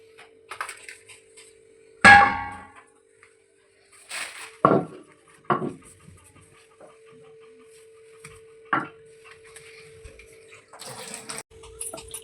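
Garlic and spices being ground into paste by hand for a duck egg recipe: scattered knocks and scraping strokes, one loud hit early on, then sparse softer taps over a steady low hum.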